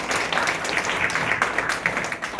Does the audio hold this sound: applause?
yes